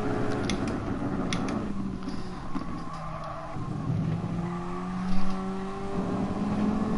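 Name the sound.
Ferrari race cars engines in video game GT Sport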